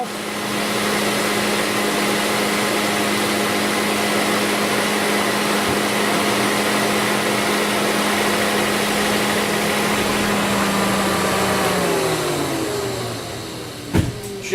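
The blower fan motor of a 2008 Ford Escape runs as a steady, loud whirring hum with a constant drone. Near the end it spins down with a falling pitch and ends with a brief click.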